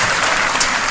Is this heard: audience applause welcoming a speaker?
yes